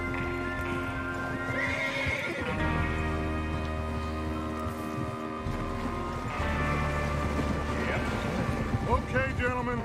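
Horses in the video game Red Dead Redemption 2, their hooves clip-clopping steadily as they gallop, with several neighs and whinnies. Voices talk over the hoofbeats throughout.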